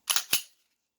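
A Taurus GX4 pistol, under recall for a trigger issue, dry-fired at close range: a quick cluster of sharp mechanical clicks within half a second, then silence.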